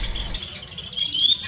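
Birds in a home aviary holding species from outside Java give a continuous high, thin trilling chirp, steady and fairly loud across the whole moment, with no voices.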